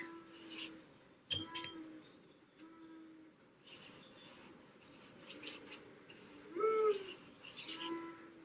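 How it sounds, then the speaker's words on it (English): Soft, short chirping bird calls from a clock's hourly chime repeat in a gentle pattern with quiet gaps between them, accompanied by light rubbing and scratching sounds nearby. "Every time you hear a bird, that means an hour has gone by."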